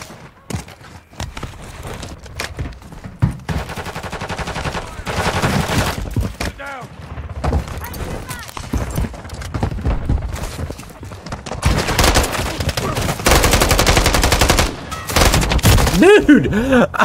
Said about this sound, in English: I'm just shooting at him